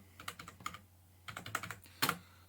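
Python code being typed on a computer keyboard, two short bursts of close, crisp key clicks separated by a pause, ending with a firmer keystroke.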